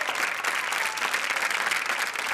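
A TV reality show studio audience claps steadily and loudly throughout, a dense crowd applause with no pauses.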